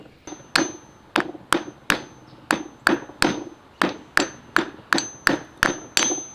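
Steady hammer taps drive a carrier bearing into place on a 1996 Nissan D21 Hardbody's rear-wheel-drive driveshaft, about fifteen sharp metallic strikes at an even, quickening pace, close and clear with no speech.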